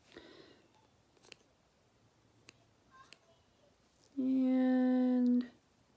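Threading scissors snipping thread close to a knot, heard as a few faint, sharp clicks followed by one louder, sustained snip-like rasp near the end, with no talking.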